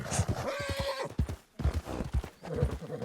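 Horse hooves clip-clop in the Western video game Red Dead, a steady trotting rhythm with a whinny, sitting close under bursts of talk.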